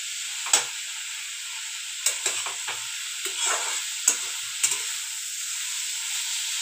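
Radish bhaji with coarsely crushed peanuts stir-fried in a pan, a soft steady sizzle punctuated by several sharp spatula taps and scrapes spaced a second or so apart, nobody speaking.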